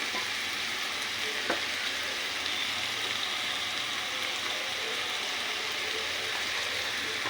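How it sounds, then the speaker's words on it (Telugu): Onions with salt frying in a pan, giving a steady, close hiss and sizzle that runs without pause, with one faint clink partway through. "ఆనియన్స్ తొందరగా వేగాలంటే ముందు ఉల్లిపాయ వేసుకు సాల్ట్ వేసుకుంటాం కదా"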